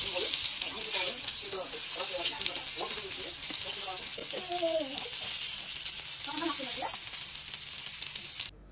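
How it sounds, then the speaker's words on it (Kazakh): Chicken nuggets fry in a pan over medium heat, giving a continuous close sizzle and crackle while someone talks over it. "Наггетстерді орташа отта 5-6 минуттан бір жағын, 5-6 минуттан екінші жағын қуырып шығыңыздар."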